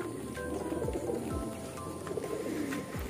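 Domestic pigeons coo softly inside a loft, low repeated cooing calls from several birds blending into a steady murmur.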